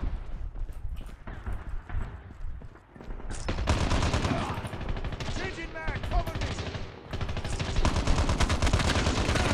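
Rapid automatic gunfire from Call of Duty Mobile, dense bursts crackling loudly over game effects, with a player's excited voice talking over the shooting.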